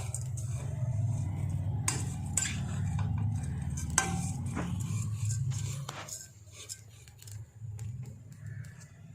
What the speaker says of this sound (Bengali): এই সিমুইটা আমরা একটু অল্প সময় নিয়ে ভেজে নেব।